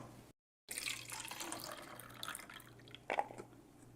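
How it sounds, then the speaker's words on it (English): Walnuts are washed under a running kitchen tap, water streaming and splashing steadily into a sink after a brief silent gap, with a louder splash near the end. "What about this wash with tap water?"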